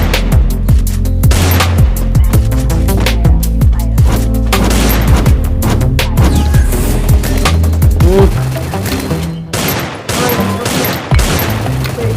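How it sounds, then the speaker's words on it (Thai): Rapid bursts of rifle gunfire crackle through a loud Free Fire battle, with repeated volleys, booms and clattering effects layered over a constant low rumble. "เสียงไรบอล"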